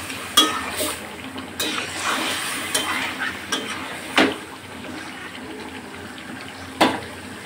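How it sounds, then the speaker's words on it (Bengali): Yogurt-marinated chicken and spices being stirred in a pan over a steady low sizzle, with occasional sharp clacks of a spoon against the pan. "দই মাখানো মাংসটা নেড়ে চেড়ে মশলাটা দিয়ে দেবো।"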